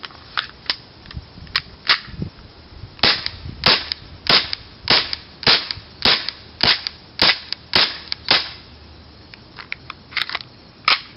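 A Tokyo Marui FN 5-7 airsoft pistol fires on green gas, sharp snapping shots in a steady string, some in quick pairs, loud and close with no talking.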